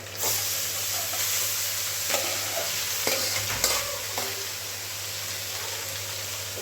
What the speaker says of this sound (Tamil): சாப்பாடு நல்லா கிளறணும்.